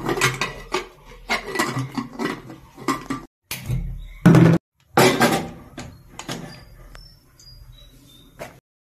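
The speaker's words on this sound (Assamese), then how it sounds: "এতিয়া মই কুকাৰত দিম" Metal clattering and scraping of kitchenware, with a sharp clank of a lid being set down on a pressure cooker and a few light knocks, close by.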